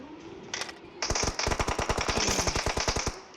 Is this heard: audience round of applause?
no